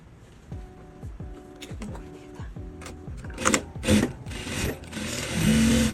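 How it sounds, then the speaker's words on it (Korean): A sewing machine stitching fabric while a waistband is made for pants, running in short, rhythmic bursts of needle clatter, followed by fabric handling and a few louder bumps near the end. "보시면 일반 봉제 해주시고"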